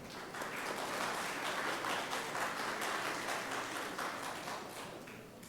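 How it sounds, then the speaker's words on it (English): Sustained crowd applause at a 5th grade graduation ceremony, steady dense clapping from many hands that holds for several seconds and tapers slightly at the end. "let's give a round of applause to these Gold Award winners"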